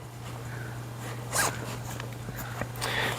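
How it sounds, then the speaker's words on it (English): A zipper on the window flap of a fabric hunting blind is pulled open in a few short, soft rasping bursts, quiet and close against a low steady hum. "And these just zip up pretty quietly."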